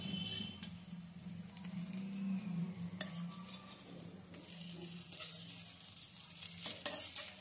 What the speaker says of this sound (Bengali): এভাবে 2-4 বার আমি উল্টে পাল্টে ভালো করে ভেজে নিচ্ছি।